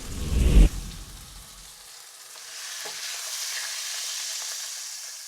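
Beef searing in a pan gives a soft, steady sizzle and crackle, heard after a brief louder clatter of the meat being handled at the start.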